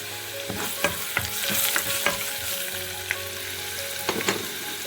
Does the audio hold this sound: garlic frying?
yes